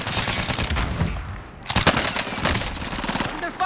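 Video game gunfire in rapid automatic bursts, loud and close, with a brief lull before another dense volley, and a voice faintly under the shooting.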